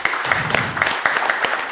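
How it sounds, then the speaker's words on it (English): Audience applause at a fintech breakfast panel event, a short burst of close, fairly loud clapping with distinct individual claps. "A round of applause to Ruth Kinyanjui"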